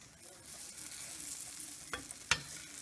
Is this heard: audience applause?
no